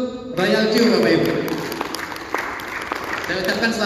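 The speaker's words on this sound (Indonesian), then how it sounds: "Nah, tepuk tangan dulu untuk Royal Q Bapak Ibu." Audience at a Royal Q business presentation in Palembang breaks into clapping after a brief moment, a steady patter of many hands with a voice speaking over it.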